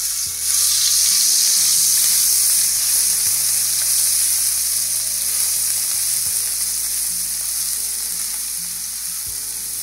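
Ground spice paste hits hot oil in a pan, giving a bright, continuous sizzle with faint stirring scrapes, close and steady throughout.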